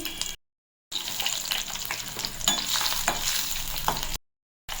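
Four green chillies fry in a little hot oil while making challa punukulu, a steady close sizzle with light stirring, broken by short silent gaps.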